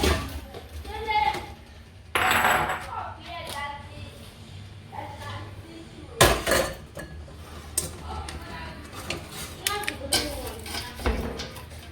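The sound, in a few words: emptying caramelized popcorn from a pot into a bowl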